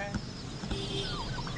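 Turkeys and chickens at a poultry sale in Chaibasa, West Singhbhum, cluck and gobble in a busy mix of bird calls over steady outdoor background noise.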